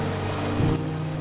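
Strong wind buffets the microphone near Vasudhara waterfall in the Himalayas, a loud, low, continuous rumble with a brief gust surge in the middle of the short burst.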